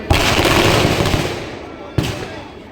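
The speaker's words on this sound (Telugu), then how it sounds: "మన హనుమాన్ దేవస్థానంలో రావణ దహనానికి ముందుగా నిర్వహించేటువంటి ప్రత్యేక బాణసంచ కార్యక్రమం" A temple Dussehra fireworks display before the burning of the Ravana effigy, with a dense, continuous roar of crackling bursts and blasts, then one sharp loud bang near the end, all close and loud.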